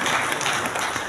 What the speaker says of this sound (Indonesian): tepuk tangan, aplaus tentunya